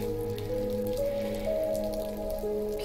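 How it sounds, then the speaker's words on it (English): Soft, steady patter of rain in the video game Death Stranding, under a sustained tonal musical backdrop, constant and even throughout, with no voices. "So I'm going through the rain."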